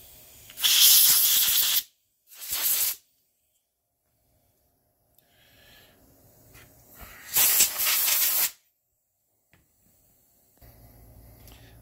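Compressed air fired in quick, loud hissing blasts at the duct of a BenQ HT2050 projector during cleaning: two short bursts, a pause with faint background noise, then a longer blast and a low hum.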